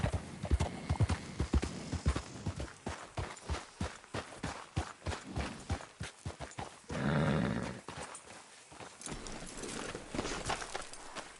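Horse hooves clip-clop in Red Dead Redemption 2, a fast rhythmic run of close, distinct hoofbeats that continues throughout, briefly broken by a burst of rougher noise near the middle.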